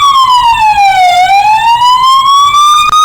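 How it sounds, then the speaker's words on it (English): A loud wailing siren sweeps down in pitch and then rises again, close and dominant, with a steady rumble of traffic underneath and no one talking. "Then the sirens went off."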